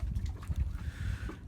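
A sailboat's engine runs steadily on a passage near Charleston, a low continuous rumble mixed with wind buffeting the microphone and faint water wash around the hull.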